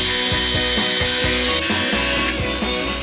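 Loud, steady grinding on rusty metal of a Jeep XJ before welding, a continuous harsh whine with a regular rhythmic pulsing from the tool, close and unbroken by any talk.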